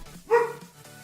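A dog gives one sharp, loud bark close by, followed by a shorter, softer yip, heard indoors in an office building beside a highway.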